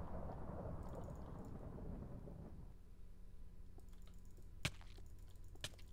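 Thunder rolling in a video game during a lightning attack, a low sustained rumble that fades after a few seconds, followed by faint sharp cracks and clicks.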